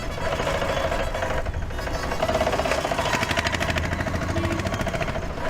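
A steady, rattling auto rickshaw engine buzzes close by, holding an even drone the whole time, with no talking.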